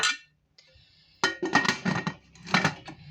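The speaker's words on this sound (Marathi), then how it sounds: "चला आता लीड लावते" A metal lid set onto a pot holding a semolina cake, giving sharp clinks and clangs of metal on metal. The contact sounds come close and loud in several quick bursts, alone without talk.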